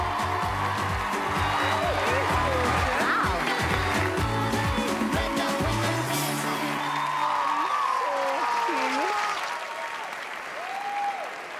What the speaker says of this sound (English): They'll all clap.